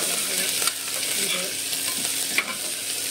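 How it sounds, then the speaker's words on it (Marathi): Ginger-garlic paste stirred and fried in a pan, a steady close sizzle with occasional spoon scrapes against the metal, no voices. "पेस्टला थोडं हलवून घ्यायचं, व्यवस्थित कळसून घ्यायचं"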